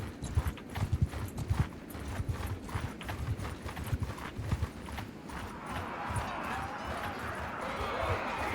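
Horse hooves clip-clop in a rapid, uneven rhythm in the video game Bannerlord, joined later by a steady wash of battle noise, with game voices murmuring underneath.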